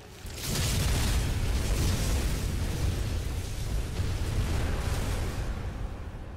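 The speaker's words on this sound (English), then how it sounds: "There are so many explosions in this game." Explosions in a video game, a sustained loud booming roar that swells in after a brief quiet start and holds as a dense rumble, with no speech.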